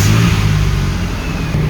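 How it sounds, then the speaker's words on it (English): A truck engine runs loud and close, a steady mid-range roar with a slight rise like a rev, and a faint high whine runs through it. "what you need to do next is go ahead and start the truck up."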